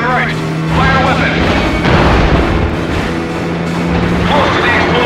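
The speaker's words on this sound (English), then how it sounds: "Close to the explosion." Explosions boom in the stunt-driving video game Stuntman: Ignition, heavy low blasts and crashes mixed with engine roar and game sounds while a voice gives driving directions over them.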